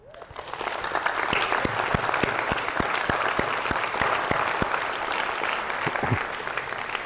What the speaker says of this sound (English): If you believe that the collider is a great idea, can we clap for the collider?